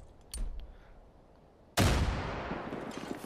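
Grenade explosion in Far Cry 5, a single sharp loud blast that decays into a rumbling tail, preceded by a fainter thump, with no talk.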